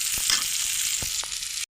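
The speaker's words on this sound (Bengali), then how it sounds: "পেঁয়াজটা একটু ভালো মতো ভেজে একটু লাল করে নেব।" Onions frying in a pan until reddish-brown give off a steady, close hiss of sizzling oil, with a few soft stirring knocks breaking through.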